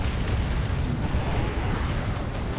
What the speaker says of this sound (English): Bunch of explosions.